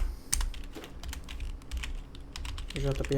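Keys clatter on a computer keyboard in quick irregular bursts of typing, close and fairly quiet, while someone speaks over it.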